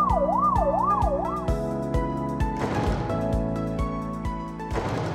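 Cartoon ambulance siren in a children's animated piece, a loud wailing siren at first, then a repeating two-tone pattern over rhythmic thumping music, close and clear.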